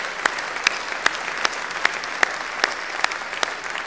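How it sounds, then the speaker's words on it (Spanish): A church congregation claps in a slow, regular rhythm, roughly two to three beats per second, like a unified round of applause, heard at moderate distance with no talk over it. "Dense un aplauso en esta mañana."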